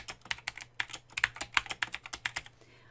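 Rapid typing on a computer keyboard, close and fairly quiet, a quick irregular run of sharp key clicks that stops short of the end.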